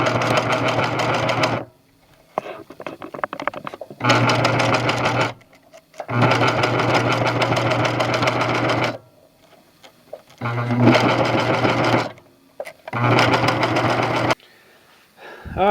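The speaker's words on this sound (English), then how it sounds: "And then I'll sew this part to the sheath." A sewing machine stitches a strap onto a duct tape knife sheath in several long runs, loud and close, with brief pauses between bursts of rapid mechanical stitching.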